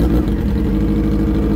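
A carbureted Honda Hornet 600 motorcycle sitting in neutral runs its engine in a loud, close, steady low rumble for a short stretch, with no voices.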